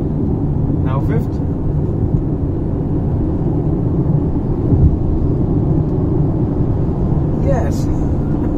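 Mahindra XUV300 turbo petrol engine pulling in fifth gear at around 80, a steady low rumble of engine and road noise filling the cabin throughout, with a voice speaking over it.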